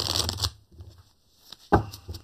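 Tarot cards are shuffled by hand in a quiet room. A dense riffling burst opens the clip, a short pause follows, then a sharp snap of cards comes with a few lighter flicks after it.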